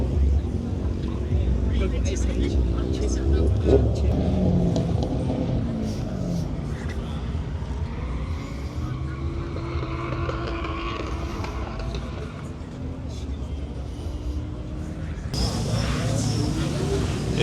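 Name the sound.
BMW M3 wagon car engine at drag event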